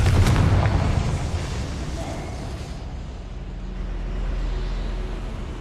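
A Confringo spell explosion in the video game Hogwarts Legacy bursts loudly at the start, then a deep rumbling roar lingers and slowly fades.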